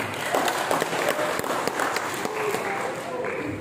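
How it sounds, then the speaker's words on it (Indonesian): An audience claps at a government anti-corruption outreach session in Jayapura, the patter of many hands steady and moderately loud while a voice talks over it. "Tepuk tangan untuk kita semua"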